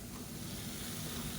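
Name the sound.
chopped tomato sizzling as it is sautéed in oil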